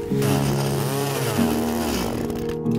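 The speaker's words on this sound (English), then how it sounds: "the chain's so cold that the chainsaw is dying like" A small two-stroke chainsaw engine with a cold chain at -30°F runs rough and uneven, its pitch wavering and sagging as it sputters and dies, close up and loud with no talking.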